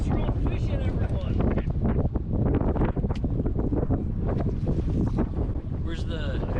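Strong wind buffeting the microphone by Donner Lake near Lake Tahoe while salmon fishing from a boat, constant loud gusty roar with people talking over it throughout.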